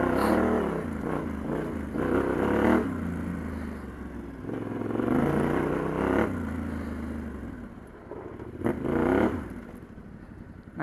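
A Yamaha T7 adventure motorcycle rides off-road at low RPM over rough terrain. Its engine rises and falls in several uneven swells, with clattering from the bike as it bumps along.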